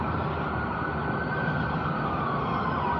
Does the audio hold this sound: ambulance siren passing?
yes